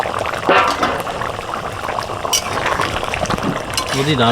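Mutton bubbling in a pot as the lid comes off, a steady close simmer of boiling liquid with a brief metallic clink, speech faintly underneath.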